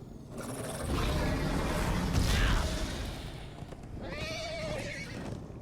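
A horse whinnies loudly amid a busy Minecraft: Story Mode game soundscape, with a second high, wavering neigh arriving a few seconds later.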